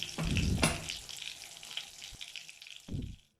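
Pointed gourd (potol) pieces frying in hot oil for a Bengali doi potol, giving a steady close sizzle with a few louder bursts as the pieces are moved. Nobody talks over it.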